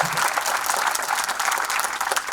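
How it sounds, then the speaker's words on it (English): Audience applause fills an orientation program hall, a dense, steady patter of many clapping hands that holds at an even, loud level throughout with no break. "please give a round of applause to them and express your gratitude."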